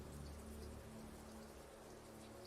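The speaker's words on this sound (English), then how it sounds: "It starts to rain." Rain sound effect in a tabletop role-playing game session: a soft, steady patter of falling rain, faint and continuous with no voices.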